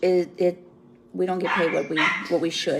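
Several Yorkshire terriers bark and yip in quick bursts close by indoors, overlapping with someone talking throughout.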